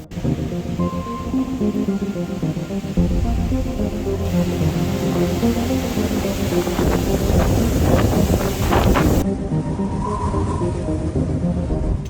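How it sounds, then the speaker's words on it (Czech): Strong wind buffets the microphone on an exposed mountain hiking trail along the Via Dinarica, a steady roaring rush with gusty swells throughout and no talking. "Situace s větrem se moc nezlepšila"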